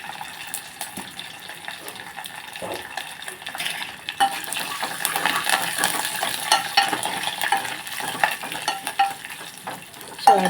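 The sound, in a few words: garlic tempering sizzling in oil for rasam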